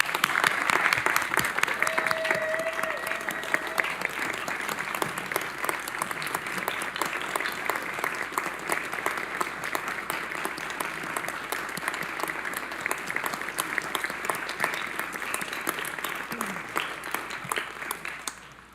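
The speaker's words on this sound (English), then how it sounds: "let's give Stephanie a well-deserved round of applause" An audience at a city council meeting applauds an honoree: dense, even clapping sustained for nearly twenty seconds and gradually thinning toward the end, with a brief whoop early on.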